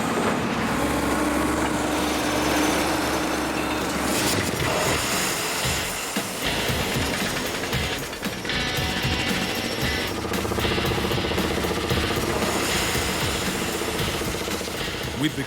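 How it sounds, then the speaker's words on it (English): A drilling rig bores a water borehole into dirt on a farm paddock in Australia: a loud, continuous mechanical roar with heavy engine rumble, rattling and clanking, changing in intensity throughout, with no clear talk. "Time to drill some dirt."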